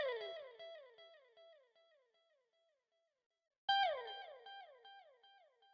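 A clean programmed guitar loop in FL Studio with no effects plays plucked notes that slide downward, in two phrases separated by a short silence, dry and close.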